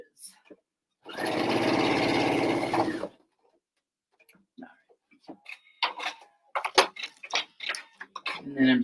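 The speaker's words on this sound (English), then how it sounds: "I am just going to stitch it down so that I can get to the edges." A sewing machine stitches down the edges of fabric for an elastic picnic casserole cover, a loud steady whirring run of about two seconds, followed by quieter handling clicks and bits of talk.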